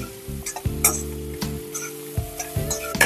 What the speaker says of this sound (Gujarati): આ બધાને સરસ રીતે મિક્સ કરી દીધું છે